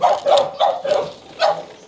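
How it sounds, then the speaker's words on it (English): Several dogs bark in short, loud bursts close by, five or so sharp barks in quick succession as they are let outside, with no talking over them. "Gonna go let the dogs out."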